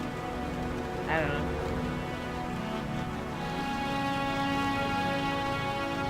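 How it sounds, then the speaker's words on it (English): Steady rain patters as a constant hiss in the Blade Runner 1997 video game, layered under a soft music bed, while a voice speaks briefly near the start. "Oh, it's the rain."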